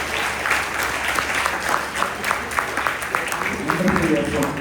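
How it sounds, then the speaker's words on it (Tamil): An audience at a devotional music event claps in a steady, lively round of applause, moderately loud and continuous, with a voice briefly heard near the end. "பரத்த கரகோஷம் கொடுக்கணும் எல்லாரும்."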